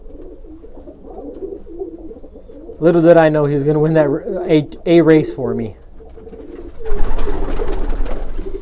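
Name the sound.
racing pigeon cooing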